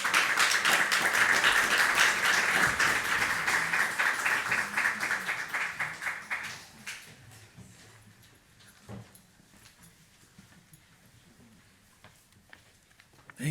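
Audience applause at an academic lecture on education and the body, welcoming the guest professor: a dense, loud burst of clapping that thins out after about six seconds, leaving scattered claps and quiet room noise.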